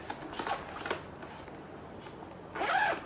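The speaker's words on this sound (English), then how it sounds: "you get a nice little zip where you can put your clamps or your rail connector" A zip opening on a Festool saw rail bag, heard as a few short rasping pulls with the longest and loudest near the end, close by in a quiet room.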